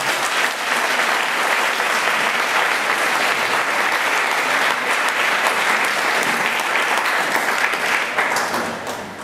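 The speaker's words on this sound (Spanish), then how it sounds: "Vamos a darle un aplauso fuerte al Señor" A church congregation breaks into loud, sustained applause at an evening worship service, a dense wash of clapping hands that holds steady throughout and fades slightly at the very end.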